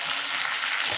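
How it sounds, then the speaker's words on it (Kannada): Ripe tomatoes with curry leaves, salt and turmeric frying in a pan, a dense continuous close sizzle with no pauses. "ಟೊಮೆಟೊ ಇದೆಲ್ಲ ಸಾಫ್ಟ್ ಆಗೋ ತನಕ ನೀಟಾಗಿ ಫ್ರೈ ಮಾಡ್ಕೊಳ್ಳಿ"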